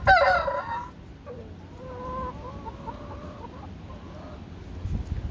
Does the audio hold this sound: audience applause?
no